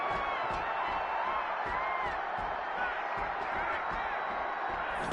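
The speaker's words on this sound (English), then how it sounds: "And CM Punk looking for support from the crowd" A steady arena crowd roars and cheers in the wrestling video game WWE 2K26, with dull thuds and impacts under it.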